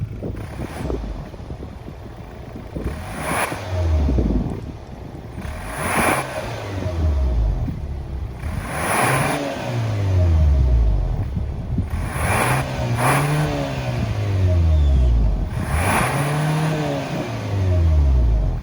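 A 2022 Hyundai Santa Fe Calligraphy's 2.5-liter turbo four-cylinder engine is revved repeatedly, each burst climbing in pitch and dropping back, loud and close, with brief pauses between revs.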